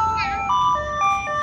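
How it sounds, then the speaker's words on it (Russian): An ice cream truck plays its jingle outdoors, a short bright melody of clear electronic tones heard from nearby over faint street background. "Машина с мороженым."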